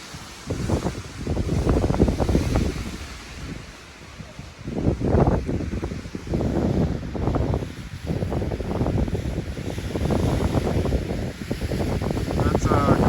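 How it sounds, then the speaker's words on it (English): Gusty wind buffets the microphone at Carter Notch view, a mountain viewpoint on the Appalachian Trail, in loud, uneven rushes that rise and fall over about thirteen seconds. "A bit windy."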